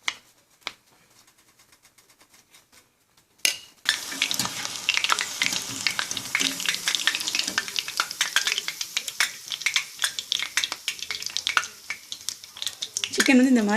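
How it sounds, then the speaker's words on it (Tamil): Marinated chicken for crispy chilli chicken deep-frying in gingelly (sesame) oil starts after a few near-silent seconds: a loud, close, continuous bubbling sizzle with crackling pops that rises toward the end. "நான் வந்து ஜிஞ்சலி ஆயிலில் தான் ஃப்ரை பண்ணுறேன். ஸோ அதனால தான் எனக்கு பபிள் வருது."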